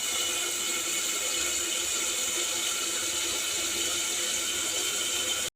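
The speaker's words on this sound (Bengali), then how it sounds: "মা এখন মাছটা ধুয়ে দিচ্ছে" Tap water runs in a steady, continuous rush while fish is washed under it at a kitchen sink, loud and unbroken with no talk.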